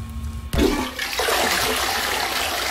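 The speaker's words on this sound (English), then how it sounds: "I flushed my sword!" A toilet in the video game Minit flushes. After a brief quiet lead-in there is a sudden loud rushing gush of water, which settles into a sustained swirling drain that stays strong to the end.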